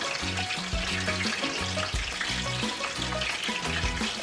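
Escovitch fish frying in a pan, a steady broad sizzling hiss running throughout, close and fairly loud, with a rhythmic music-like pattern beating underneath and no voices.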